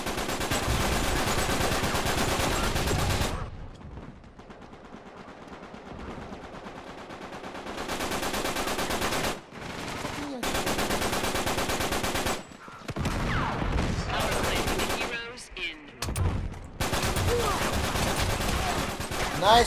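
Rapid automatic gunfire rattles through an online shooter game in long dense bursts, cut by brief quiet gaps, then resumes in choppy stretches of heavy shooting.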